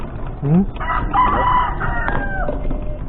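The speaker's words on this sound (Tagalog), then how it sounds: "Yung manok, ang dami eh." A rooster crows loudly amid a clutter of clucking chickens, close by and busy, with the crowing rising over the flock.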